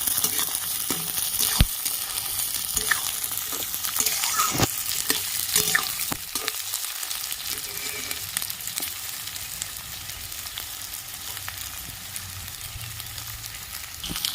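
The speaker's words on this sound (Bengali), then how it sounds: "কেটে রাখা সব সবজিগুলো আমি দিয়ে দিচ্ছি গাজর কুচি বিনস কুচি ক্যাপসিকাম কুচি ভালো করে একটু ভেজে নেবো" Chopped carrot, beans and capsicum fry in a pan for egg fried rice, a continuous close sizzle broken by repeated sharp spatula clacks and scraping as they are stirred.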